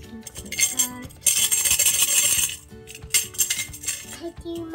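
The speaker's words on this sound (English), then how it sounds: "Then you have a tambourine." A tambourine from a beginner's band instrument set is shaken in two loud bursts of jingling metal, close by, separated by a brief pause with a few lighter clinks.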